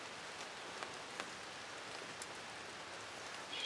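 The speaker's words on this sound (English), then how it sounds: "Starting that rain again." Rain falls outdoors in the woods during a spring turkey hunt, a steady soft hiss with occasional sharper drops tapping nearby surfaces.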